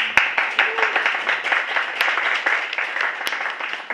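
Crowd applause, dense and sustained clapping from many hands in a room, fairly loud with a few sharper individual claps standing out.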